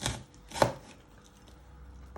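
A knife dices a red onion on a chopping board, giving a sharp, close chop followed by a few fainter taps against the board.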